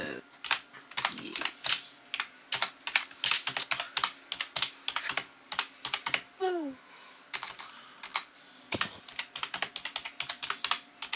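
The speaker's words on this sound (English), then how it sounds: "Mechanical keyboards are the best." Rapid, uneven clatter of mechanical keyboard keys, close and crisp, with a brief voice-like chirp partway through.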